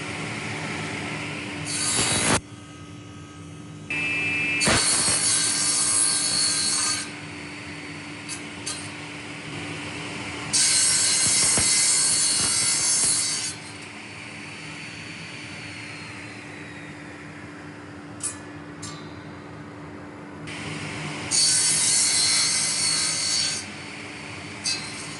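A restored Irwin tenon saw cuts through wood in several sustained bursts of rasping strokes, separated by quiet pauses. It sounds close and loud, with no speech.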